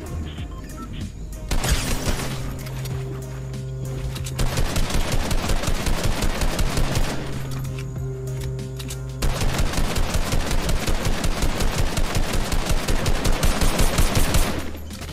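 Rapid bursts of gunfire from the video game Fortnite, loud and close, with sustained automatic volleys over a steady game backdrop and music, running almost continuously with brief lulls.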